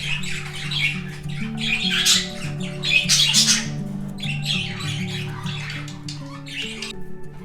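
Several pet birds in a bird room squawk loudly and repeatedly at close range in harsh bursts, over a low humming background tone.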